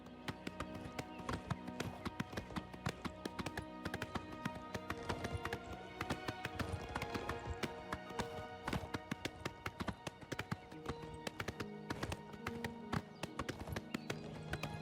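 Horse hooves clip-clopping in the video game Oblivion Remastered, a steady rapid rhythm of close, crisp hoofbeats carrying on without a break.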